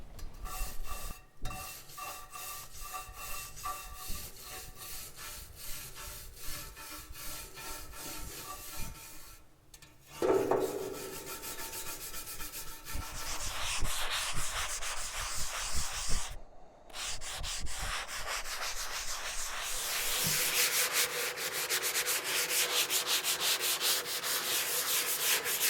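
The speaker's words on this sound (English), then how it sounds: "So first thing is to scrape off the rust." Rust scraped off an old cast wood stove outdoors, continuous close rasping and scratching strokes that grow brighter and harsher over time, with short pauses between passes.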